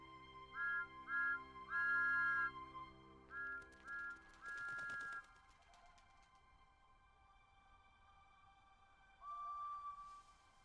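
Steam locomotive whistles in a Trainz simulator, a series of short and long tonal toots in a rhythmic pattern, then a burst of noise and one more distant, fainter whistle after a pause.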